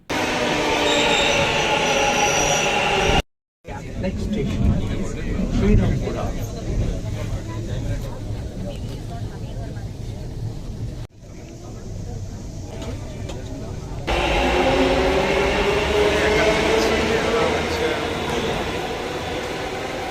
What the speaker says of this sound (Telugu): మన మెట్రో స్టేషన్ వచ్చేసింది